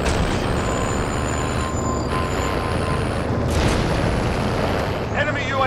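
A vehicle in Call of Duty: Modern Warfare rumbles in a dense, continuous engine roar with hissing and clattering over it, loud throughout.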